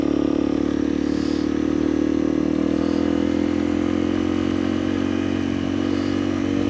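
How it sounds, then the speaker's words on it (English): A heavy dual sport motorcycle rides a narrow single-track trail near Wickenburg, Arizona. Its engine holds a steady, close mid-pitched drone with a slight rise and fall in revs, alongside faint clatter and wind, and no voices. "I'm on a heavy dual sport bike."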